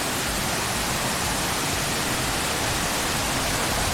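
Dhoni waterfall in Palakkad, Kerala, running low on water, gives a steady broadband rush of falling water that stays even and unbroken throughout.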